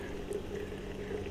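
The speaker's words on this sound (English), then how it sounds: "Pour the rest of the coffee." Coffee poured from a percolator into a thermos, a steady close trickle with a faint filling tone held for the full moment, no voices.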